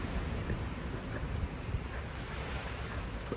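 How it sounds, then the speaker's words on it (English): Strong storm wind buffets an outdoor microphone, a continuous loud roaring gust noise with no talking. "Excuse the wind, we're currently in a storm this episode."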